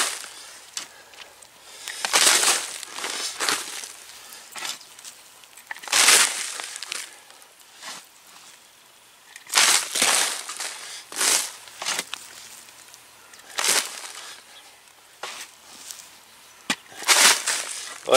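Soil being scooped and poured into a strawberry nursery planter, a run of gritty crunching, rustling bursts at an irregular rhythm, close by, with quiet gaps between the pours.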